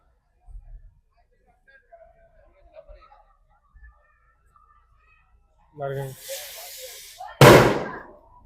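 Firecrackers go off at a village temple festival in the Kodaikanal hills. Scattered soft pops lead into a hissing fizz and then one loud, sharp bang near the end.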